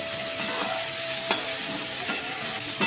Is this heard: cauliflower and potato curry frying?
yes